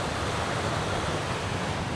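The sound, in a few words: sea waves at a beach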